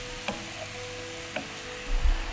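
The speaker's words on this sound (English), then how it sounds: "Keep stirring until your mince is lovely and brown." Minced beef browning in a pan for bolognese, a soft steady sizzle with a couple of light scrapes of stirring and a low thump near the end, fairly quiet and alone.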